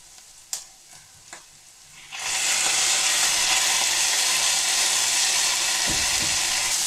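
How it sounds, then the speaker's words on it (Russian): Corn goes into a hot pan of vegetables for rice: a couple of light knocks, then a sudden loud, steady sizzle of frying that holds to the end, with a stirring scrape late on. "Так, ну и последним я отправляю сюда кукурузу."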